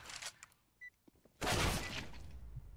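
Gunfire in CS:GO on the Mirage map: a few scattered clicks and short shots, then a loud burst of rapid gunfire that trails off into noisy decay.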